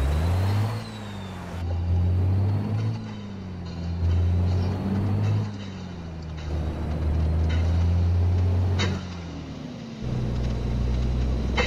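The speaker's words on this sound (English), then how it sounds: "This truck just sounds so good." A deep, rumbling Mack B61 truck engine in a video game drones steadily, its pitch rising and falling with shifts and revving, up close with no talking.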